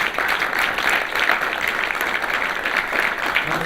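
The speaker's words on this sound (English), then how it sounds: "Can I hear applause, please?" An audience at a PHP developer conference applauds to welcome a speaker, a steady, fairly loud spread of many hands clapping that continues evenly throughout.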